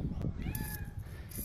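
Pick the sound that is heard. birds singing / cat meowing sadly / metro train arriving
cat meowing sadly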